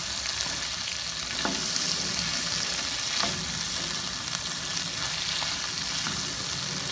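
Chili added to mixed vegetables for pinakbet frying in a pan in a backyard, a steady, close hiss of sizzling oil with occasional soft knocks of a utensil stirring.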